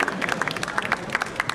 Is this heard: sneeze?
no